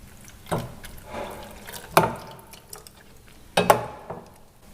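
A little water is poured into tamarind potato chutney with green chili and coriander, producing a few close splashes and drips in separate bursts, with no one speaking.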